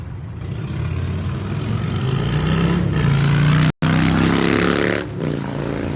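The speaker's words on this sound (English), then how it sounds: "I can't take those motorcycles. I do not enjoy those motorcycles. They're very loud" Loud motorcycles roar past on a street, a heavy, sustained engine drone that swells and shifts as the bikes pass close by, with a brief dropout partway.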